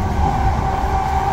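London commuter train running on rails near London Bridge, a loud steady close rumble from inside the carriage with a constant wheel hum and no voices.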